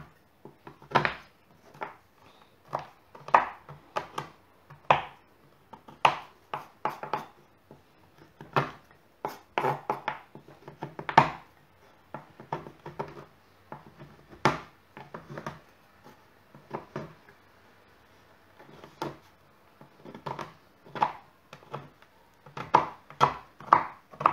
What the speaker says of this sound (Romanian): Așa, tăiem și ciocolata.